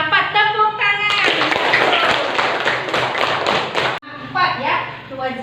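Schoolchildren in a classroom clap their hands together in a loud, close burst of rapid claps lasting a few seconds, with a teacher's voice before and after.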